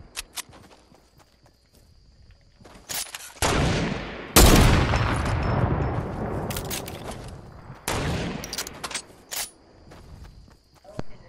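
Gunfire and footsteps in a Fortnite Battle Royale squads match, with loud bursts of shots and long booming blasts that ring out over running steps, while players talk now and then.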